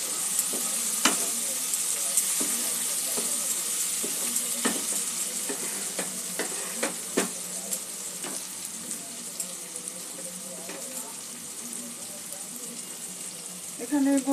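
Green chillies stirred in a hot pan for a green moong and potato curry, with a constant bright sizzle and repeated sharp clicks and scrapes of the spoon, close up.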